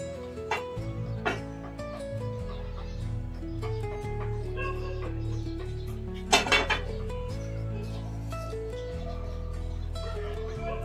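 A metal spoon clinks against a pot as two spoonfuls of oil go in for onion sabzi, with scattered taps and a sharp louder clatter midway over a steady low kitchen hum.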